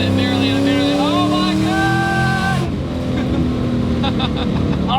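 A 700-horsepower E85-fuelled Ford Terminator Cobra engine revs and accelerates, its pitch climbing steadily before settling into a loud, rough drone, while someone talks over it.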